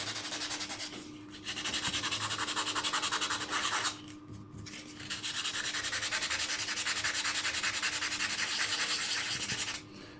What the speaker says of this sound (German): Schleife etwas diese Ränder mit diesem Schleifpapier.